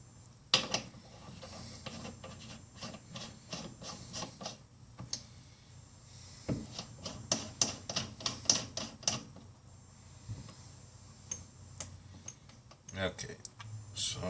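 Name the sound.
screwing down a cover on an RCBS reloading press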